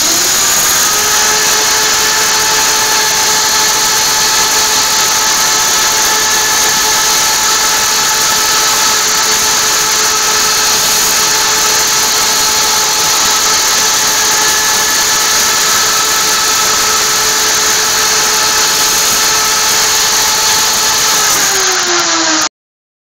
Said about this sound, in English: I got to turn this router off. Turn this one on. And if, as long as it's lined up, you're going to cut that one next.